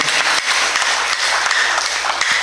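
Applause from an audience at a political gathering, a dense steady burst of clapping heard up close.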